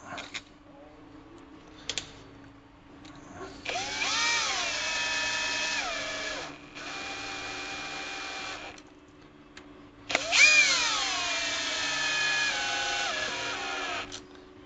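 A handheld power driver tightens screws on an upgraded Vertex 6 transmission, whirring in three bursts of several seconds each, rising in pitch as each one starts, with faint handling clicks between them.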